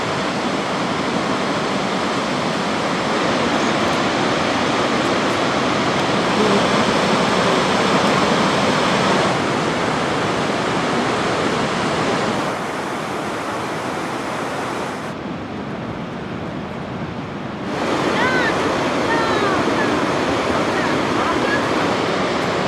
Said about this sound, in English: we then travelled to the breathtaking Gullfoss, which means golden waterfalls